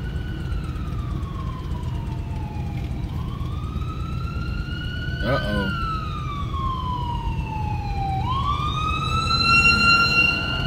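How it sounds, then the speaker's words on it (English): An ambulance's wailing siren sweeps up and down repeatedly over steady Tampa traffic rumble, growing slightly louder toward the end; a voice briefly murmurs. "That's the slowest I ever seen an ambulance here in Tampa."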